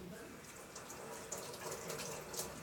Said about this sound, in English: Here, I'm gonna wash my hands.